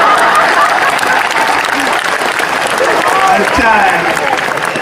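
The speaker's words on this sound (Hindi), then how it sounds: "और ताली तो आप इस बात पर बजाएंगे" Audience applause at a Hindi kavi sammelan poetry recital: dense, sustained clapping from a large crowd, loud and continuous, with a voice briefly speaking over it.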